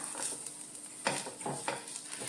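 Spoon stirring a crushed coconut mix with onion, chili powder and turmeric in oil in a pan, a faint sizzle with a few soft scraping strokes, close and alone.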